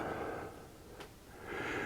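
One long, soft exhale during a tai chi breathing exercise for seniors. The breath sounds close and airy, swells and fades, and no one speaks over it.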